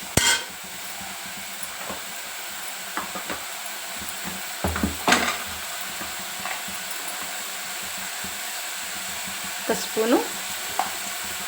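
Radish pieces fry and sizzle in hot oil in a pan while a spoon scrapes and stirs them, giving a steady crackle with intermittent clinks of utensil on metal; a brief spoken word comes early.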